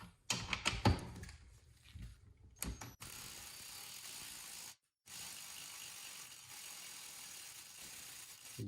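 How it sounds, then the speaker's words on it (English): Spring compressor tool being loosened during a Triumph Daytona 675 motorcycle fork rebuild: a burst of quick ratcheting clicks and metallic clunks, then a quieter hiss with a short silent gap, close and faint. "We'll go ahead and loosen up the spring compressor tool."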